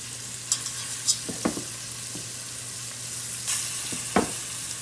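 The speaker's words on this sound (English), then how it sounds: "I'm going to add the ribs also, right in the pan" Pork ribs frying in a pan alongside sausages for a Neapolitan ragù, a low steady sizzle under a faint hum, broken by a few sharp utensil clinks and scrapes, no voices.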